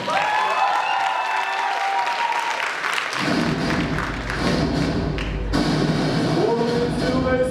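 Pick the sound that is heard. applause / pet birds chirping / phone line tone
applause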